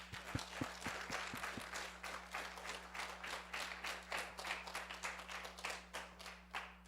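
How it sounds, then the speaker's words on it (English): An audience at a scientific lecture applauds with dense, steady clapping that carries on for several seconds over a low electrical hum. "Can we give Dimitri another round of applause?"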